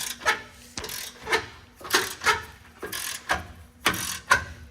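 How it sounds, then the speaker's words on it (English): A ratchet wrench loosening a transmission cooler line nut on a Ford F-150, close up in a series of about nine rhythmic ratcheting strokes, each a short burst of clicks with brief pauses between. "And then we could just simply wrench it out of here."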